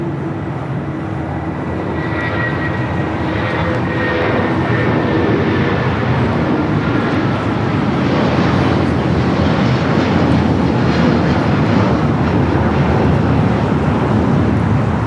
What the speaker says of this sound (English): We do have United 757 now taking off 25 at right.